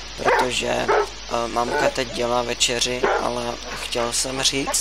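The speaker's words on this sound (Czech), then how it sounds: "se omlouvám, mám zlého psa a on tu štěká." An indoor dog barks and yips repeatedly, mixed in with someone talking steadily over it in a home setting.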